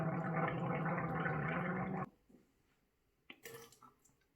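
A person gargles a hydrogen peroxide solution while recovering from a tonsillectomy, a close bubbling gurgle lasting about two seconds, then quiet with a few faint liquid sounds and a brief splash near the end.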